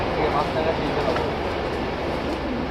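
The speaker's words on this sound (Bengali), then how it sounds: "আমার বাড়ির সামনে দিয়ে ট্রেন যাইতেছে।" A train passes in front of a house, a loud, steady, close rumble that fills the whole stretch without letting up, with a voice faintly beneath it.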